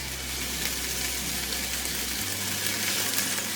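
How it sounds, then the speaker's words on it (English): Chopped vegetables cook in a pot of hot fat for a lightened-up copycat chicken gnocchi soup, giving a steady, even sizzle and crackle over a low background hum that drops away partway through. "I'm gonna just cook those in there until they start to soften"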